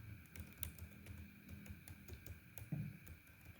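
Someone types on a computer keyboard, giving soft rapid key clicks in an irregular patter, faint and close against a quiet room hum.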